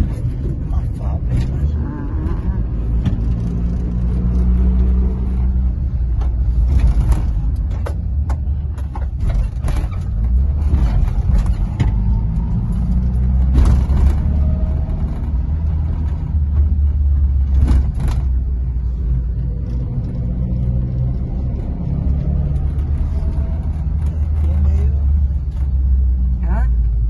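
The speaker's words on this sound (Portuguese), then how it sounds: "Olha só quantos carros" Steady, heavy road traffic rumbles on the BR highway running through town in Rio Negrinho, Santa Catarina, with low engine drone and passing vehicles throughout, while people talk over it.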